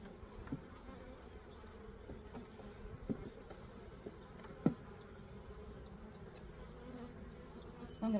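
Honey bees hum around an open hive in early April, the colony building fresh wax honeycomb; a soft, steady drone hangs low under the quiet scene, with a few faint knocks and handling sounds.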